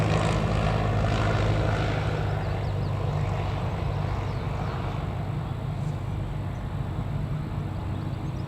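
A propeller aircraft flying circuits at Newcastle Airport gives a loud, steady engine drone with a broad rumbling roar that holds level and eases slightly toward the end, with no talk over it.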